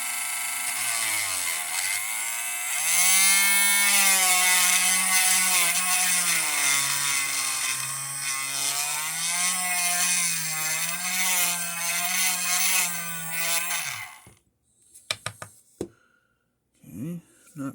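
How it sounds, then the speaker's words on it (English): A Dremel rotary tool with a grinding tip grinds out the hole in a Valaverse action figure head, giving a loud, close, high whine whose pitch wavers as the load changes, then it stops and a few short handling clicks follow. "I have my trusty Dremel tool here with my grinding tip, and we're just going to grind away."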